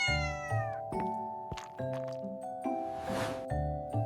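A domestic cat meows repeatedly in a clear, close series of drawn-out calls with short pauses between them, heard alone with no talking.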